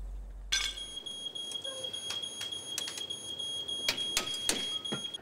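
A smoke alarm chirps in repeated sharp, high electronic beeps at an irregular rhythm, fairly near but modest in level, with no talking.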